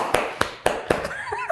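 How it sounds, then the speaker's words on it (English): Several sharp hand claps spaced about a quarter-second apart, close and distinct, followed by a brief voice, people applauding on a mental health talk show. "So we'll clap for you."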